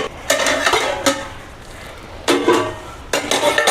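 A metal pot lid is lifted off a pan of egg semiya pulao, giving several short clanks and scrapes in two clusters, close and fairly loud, with no talking.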